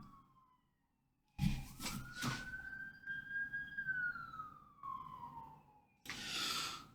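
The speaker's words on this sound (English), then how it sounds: "Something's going on outside. I've been hearing a lot of sirens." Emergency vehicle sirens wail outside, rising and falling in pitch after a brief quiet start, with bursts of traffic rumble and noise around them and no talk.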